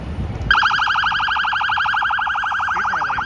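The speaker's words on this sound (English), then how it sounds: "Police car." A police car siren on a Toronto city street wails loud and close, its rapid warbling yelp starting abruptly and sweeping steadily over traffic noise.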